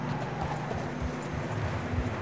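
Horse hooves clip-clopping at a steady walking rhythm through snow in the Red Dead Redemption 2 video game, continuous and moderately close under a low wind-like rumble.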